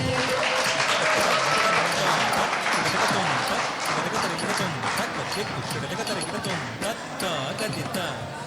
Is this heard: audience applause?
yes